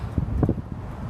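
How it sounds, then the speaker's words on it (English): Strong gusty wind buffets the microphone in a short, low rumbling burst of roaring noise with faint rustling, close and uneven. "It's been windy all afternoon and I was hoping that the wind would die down by evening, but I think it's stronger than it was before."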